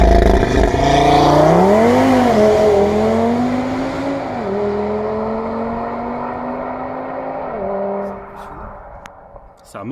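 Audi TT RS with 560 hp and all-wheel drive making a launch-control standing start, the engine roaring up through several rising sweeps with brief dips at gear changes, loud and close from inside the car.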